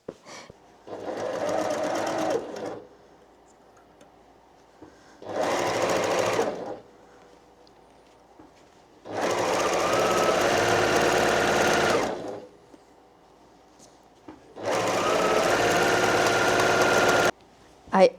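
A sewing machine quilting fabric with blue thread runs in four separate bursts of steady rapid stitching, each a couple of seconds long, with quiet pauses between them, close and clear.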